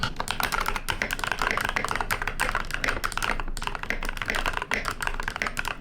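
Continuous, brisk typing on a retro-style computer keyboard, with close, crisp key taps in an even rhythm and no talking.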